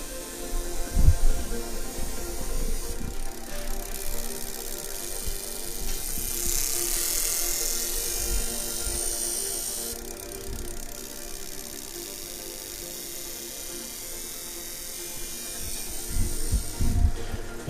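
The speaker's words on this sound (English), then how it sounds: "Now it's telling me I can test injectors." A four-cylinder car engine runs as its fuel injectors are fired one by one from ECU software, giving a faint, fast mechanical buzz and clicking under a steady hum, with a few louder knocks.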